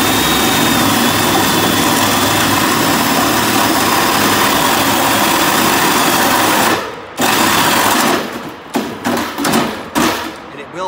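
A drill with a pilot bit cuts a hole for a cable entry sleeve through a metal roof, grinding loudly and steadily up close, then cutting out and stuttering in short, uneven bursts as the bit binds.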